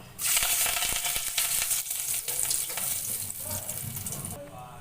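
Cumin seeds and ground spices sizzle and crackle in hot oil for cooking ol (elephant foot yam) with prawns, a steady close frying hiss with stirring scrapes that drops away near the end.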